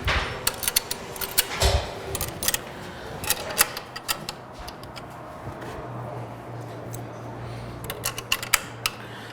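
Hinges being loaded by hand into a bi-fold hinge screwing machine: a run of close, crisp metallic clicks and clacks in uneven bursts, with a low machine hum starting partway through.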